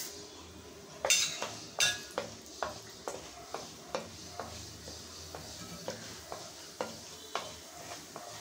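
Mustard seeds and urad dal fry in hot oil in a pan, a steady sizzle under repeated clinks of a spoon scraping and stirring about once a second, with two sharper knocks near the start.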